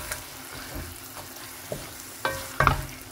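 Mackerel in tomato sauce going into a hot frying pan with spring onions for an egg stew, a steady sizzle of frying with a few stirring scrapes and clatters of the spatula near the end, close and fairly quiet.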